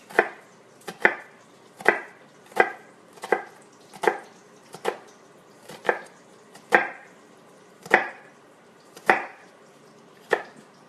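A knife chops on a cutting board for beef chili with about thirteen crisp, evenly spaced strikes, each a sharp close knock that fades quickly in a quiet kitchen.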